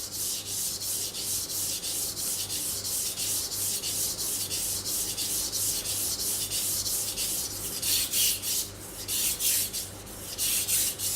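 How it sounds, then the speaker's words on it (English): A kitchen knife is sharpened on a Japanese whetstone in steady back-and-forth strokes, a close, even rasping scrape that repeats rhythmically and grows slightly louder and choppier toward the end. "Your stone is always making the same sound for you."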